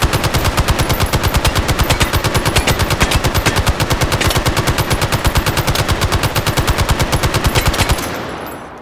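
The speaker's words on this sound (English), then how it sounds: "What's important is that we have an M60 to play with" An M60 machine gun in a Call of Duty: Black Ops video game fires one long, unbroken automatic burst of loud, evenly spaced shots for about eight seconds before cutting off into a fading tail.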